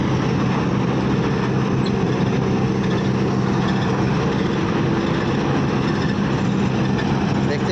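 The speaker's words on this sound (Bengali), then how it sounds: "এই দেখেন ধান কাটা স্টার্ট।" A rice harvesting machine cutting paddy in a village field, its engine roaring in a steady, loud, unbroken drone for the whole stretch.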